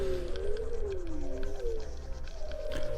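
Possible whale calls picked up underwater while diving off Maui, heard as faint, drawn-out gliding moans over a steady low rumble of ocean noise.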